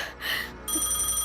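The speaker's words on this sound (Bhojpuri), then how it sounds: "अब केकर फोन आ गई लागल?" A telephone rings with a bright electronic trill, two short bursts over a quiet room.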